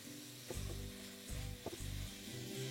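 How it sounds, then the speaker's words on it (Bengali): Thinly sliced onions frying in oil over medium flame for chicken pulao, a steady close sizzle broken by a few stirring scrapes, no talking. "আমি এখানে 3টে পেঁয়াজকে পাতলা করে সাইজ করে কেটে নিয়েছি, যেটাকে আপনাদের ফ্লেমটাকে মিডিয়াম করে ভালো করে ভেজে নিতে হবে।"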